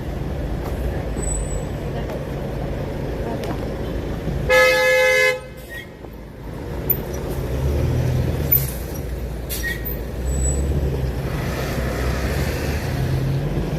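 A loud horn blast from an electric city bus in a Chongqing park, one sustained honk of about a second standing out over steady street and crowd noise.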